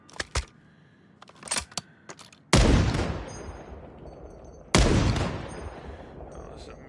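Meat cannon weapon firing in a PS4 video game: scattered sharp clicks and short bursts, then two heavy booming blasts that decay slowly, loud and close.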